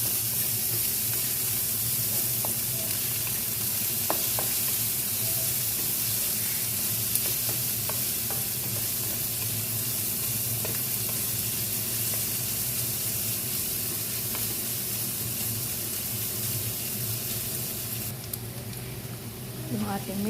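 Garlic and onion sizzling in a pan for pancit canton, a long steady hiss of frying with occasional light stirring scrapes and a faint low hum underneath, continuing for about twenty seconds before a brief change near the end.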